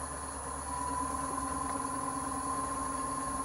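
A wood lathe spins up with a natural edge bowl blank mounted, a steady motor hum with a whining tone and faint rhythmic flutter, close and continuous, with no talking.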